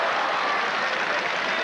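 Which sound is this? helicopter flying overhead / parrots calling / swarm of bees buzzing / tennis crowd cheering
tennis crowd cheering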